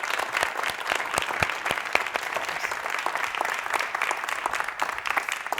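A live audience applauds at a corporate talent and digitalization event, steady dense clapping from many hands holding an even level throughout, with no voices over it.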